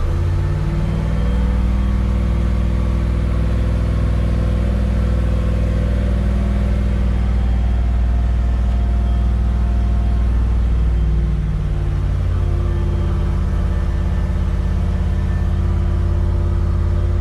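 A 1984 Camaro Z28 engine idles steadily after a cold start, a loud close low rumble that drops slightly in pitch partway through as the idle settles.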